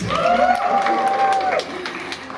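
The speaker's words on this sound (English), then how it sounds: "I'm going to need one more round of applause" Audience applause at a pageant with crowd noise, while a strong held tone and talk-like sounds ride over it for most of the stretch before it thins out.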